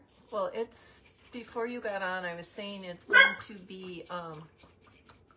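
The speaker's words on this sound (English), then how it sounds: "sorry about my dog." A dog barks and yips a few times in short bursts while a person keeps talking over it nearby.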